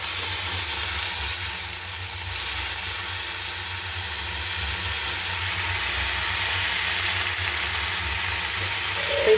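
Jujubes frying in a hot pan with fennel and fenugreek, a steady broad sizzle that carries on evenly throughout with a faint stir at the end.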